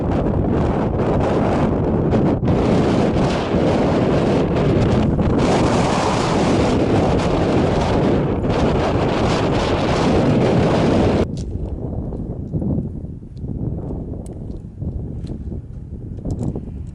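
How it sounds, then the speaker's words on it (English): Strong wind buffeting the microphone on the Goat Rocks mountain trail, loud continuous roaring gusts that drop abruptly to softer, uneven blowing near the end. "And it's windy."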